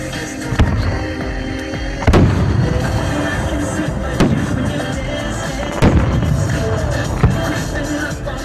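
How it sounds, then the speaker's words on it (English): A professional Independence Day fireworks display in Pahrump bursts with a series of sharp booming bangs at irregular intervals over a constant crackling, rumbling background. "Pahrump residents and visitors enjoyed 2 professional fireworks displays in our town"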